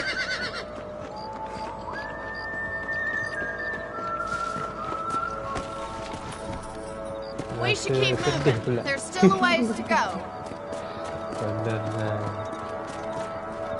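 Horses' hooves clip-clop at a steady walking pace in the Wild West video game Red Dead Redemption, mixed with a whinny and game music while someone talks over it.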